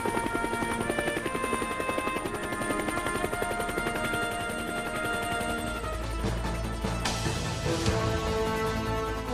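Bell UH-1 Huey military helicopter, its rotor and turbine sounding as a steady, loud, continuous drone throughout, with a rising whine and shift in tone near the end.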